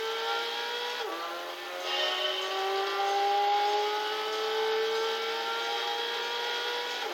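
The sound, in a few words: racing car engine revving in video game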